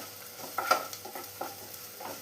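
Fresh chili stirred into a spinach and tuar dal thoran in a pan: quiet scraping spoon strokes in a loose rhythm, a sharper tap or two, over a faint low sizzle.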